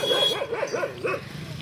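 Village dogs bark and yip in a rapid run of sharp, close calls along a Narmada pilgrimage route, fading into a softer whine near the end.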